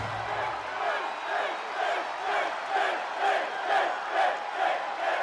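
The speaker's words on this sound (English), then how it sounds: "Crowd with some early Finn chants" An arena crowd in the WWE 2K22 wrestling video game chants rhythmically for a wrestler at a match start, a loud, steady, repeating wave of massed voices.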